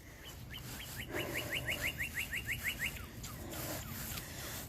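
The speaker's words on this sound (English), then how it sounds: "Or the birds tweeting." Birds tweet outdoors in a cemetery, a quick run of bright, evenly spaced chirps lasting about two seconds, with scattered calls after it, all over a steady outdoor background.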